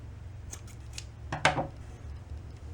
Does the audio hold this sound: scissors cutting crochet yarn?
yes